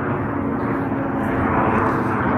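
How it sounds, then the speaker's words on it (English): A jet aircraft passes overhead outdoors near a school, a steady loud broadband roar with a low rumble that holds throughout without pause and no talk over it. "Of course, there's a jet flying over now."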